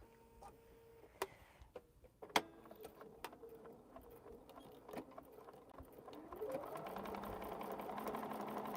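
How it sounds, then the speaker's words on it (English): A sewing machine stitches the edges of a quilt with variegated polyester thread: a few sharp mechanical clicks and taps come first, then a steady, close motor whir builds and runs to the end. "All right, we're gonna sew this one up,"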